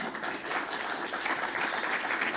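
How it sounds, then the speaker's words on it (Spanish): Steady applause from a crowd at an international sanitary and environmental engineering congress, a dense wash of clapping that holds at an even level throughout with no voices breaking through. "Lo recibamos con un fuerte aplauso."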